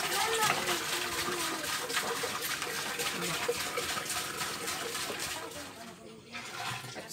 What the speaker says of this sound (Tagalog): Magsasalin muna tayo ng tubig.